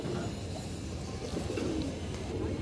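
Pigeons coo in a low, continuous murmur, with several birds overlapping in a steady, moderately close chorus and no talking.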